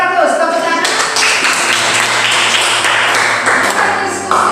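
A classroom of children claps together after a teacher's prompt, a dense burst of applause that fills the room and carries on for several seconds under a faint voice.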